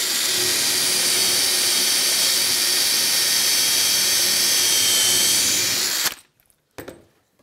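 A power drill bores a hole into the end of a wooden post for an enclosure, whining loudly and steadily up close for about six seconds, then stopping abruptly, followed by a couple of faint brief knocks.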